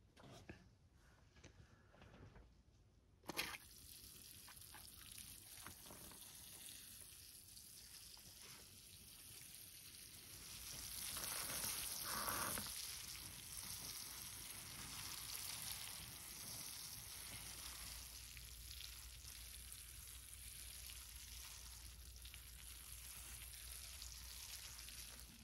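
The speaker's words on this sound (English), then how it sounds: "Let's get some water on this." Water poured onto a mulberry bonsai tree just repotted and pruned, a steady hissing trickle and splash into soil that starts with a sharp onset and continues evenly, growing slightly louder midway, with no talking.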